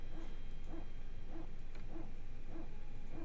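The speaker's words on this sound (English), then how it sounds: "You hear the PTU barking away down there." An Airbus A320's power transfer unit (PTU) barks in a flight simulator, a mechanical whine repeating roughly every 0.6 seconds, low and steady, over a constant engine drone.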